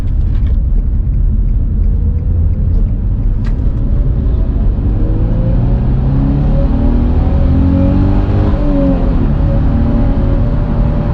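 An Infiniti G35 engine fitted with a Stillen Z-Tube intake revs hard, its loud, steady roar climbing and falling in pitch over several pulls, heard up close with no talking.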